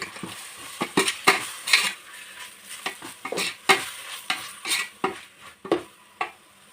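Ginger garlic paste fries in a pan for chicken dum biryani while a spoon or spatula scrapes and taps against the metal in a steady, uneven rhythm over a low sizzle, close up with no talking.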